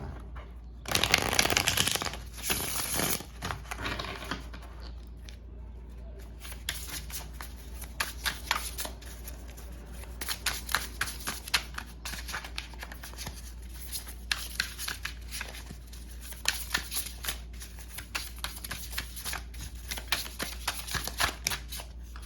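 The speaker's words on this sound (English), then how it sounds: "I'll shuffle the cards and pull and see what comes out." A Vlad Dracula tarot deck is shuffled by hand up close: a loud opening riffle, then a long run of soft card slides, flicks and snaps in an uneven rhythm, with no talking.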